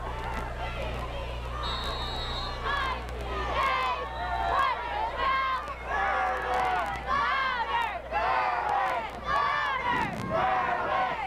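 High school football crowd at Crispin Field during a Pottsville Crimson Tide at Berwick Bulldogs game, with cheerleaders leading rhythmic chanted cheers over steady stadium crowd noise, fairly distant and continuous throughout.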